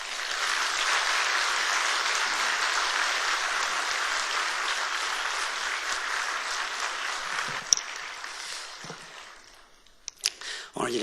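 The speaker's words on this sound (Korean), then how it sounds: "이제 목사님 나오실 때 우리 박수로 환영하시겠습니다" A church revival congregation applauds as a guest pastor comes forward, a sustained crowd clapping for about seven seconds before tapering off into scattered sounds and a few handling noises.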